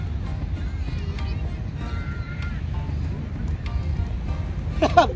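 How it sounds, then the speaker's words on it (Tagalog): Steady wind rumbles and buffets against the microphone throughout at a beach, with faint distant sounds mixed in and a brief clatter at the end. "Mahangin. May hangin lang."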